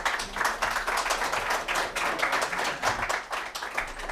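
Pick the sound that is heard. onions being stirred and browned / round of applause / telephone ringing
round of applause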